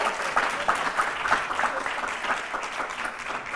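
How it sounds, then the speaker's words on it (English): An audience applauds panel guests at a talk on female leadership, steady dense clapping filling the room throughout, with a few louder cheering swells and no speech over it. "a round of applause to them"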